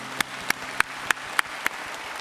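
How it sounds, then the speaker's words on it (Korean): In a church service, claps come in a slow, even rhythm, six crisp, separate strikes spaced about a third of a second apart, with no talking. "우리 하나님께 영광의 박수 올려드리겠습니다"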